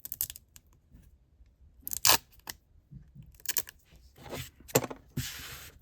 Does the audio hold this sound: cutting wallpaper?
yes